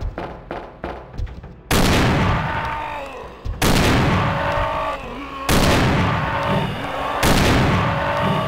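Pistol gunfire in Resident Evil 2, with Leon in the Its Too Hard mod: a burst of rapid, close shots opens, then loud sustained blasts roll and echo through the room.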